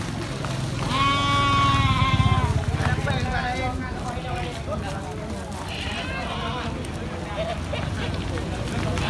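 Female Kacang goats bleat at a busy livestock market, with one long wavering call near the start and more calls after, set against crowd chatter and voices talking nearby.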